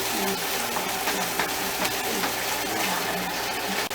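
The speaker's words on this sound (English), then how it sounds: "So we go ahead and add our water in" Water poured gradually into a pot of Jamaican gravy, a steady close-up gushing splash with a constant rushing texture and no talk.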